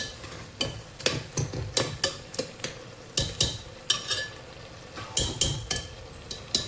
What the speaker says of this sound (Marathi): छानपैकी हलवून घेऊया आपण।